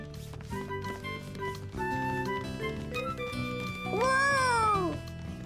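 A cartoon cat meows in a high, stretched, sliding cry near the end, over an earlier bed of bright cartoon music with steady tones.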